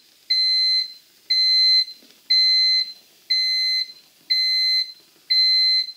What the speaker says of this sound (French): on va laisser la sonnerie sonner